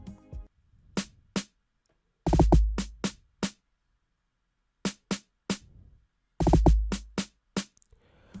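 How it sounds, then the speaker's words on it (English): A programmed Afrobeats-style snare layered with a log drum, playing a sparse pattern of sharp broadband hits alternating with deeper booming log drum notes, separated by gaps of silence. "next up we have this snare"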